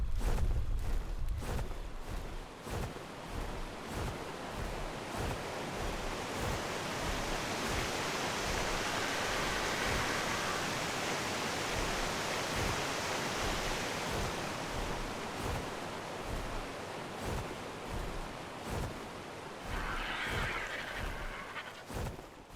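A waterfall in the video game ARK: Survival Ascended, a steady broad rushing roar that continues throughout, fairly quiet, broken by soft repeated clicks and a brief burst of other game sound near the end.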